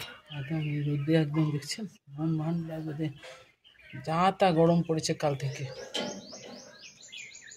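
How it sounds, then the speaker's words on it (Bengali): Birds chirp outdoors in a village setting under strong midday sun, faint scattered calls under someone talking, with a clearer run of high chirps near the end. "আরে পাখিগুলি ডাকছে"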